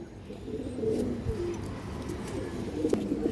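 Racing pigeons coo softly and repeatedly at close range, low throaty calls rolling one after another over a steady bed of background noise, with no voices.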